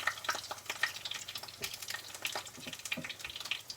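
Salmon and tuna burritos fry in a hot pan, giving a steady close crackle and sizzle with scattered sharper pops and light scraping throughout, no voices.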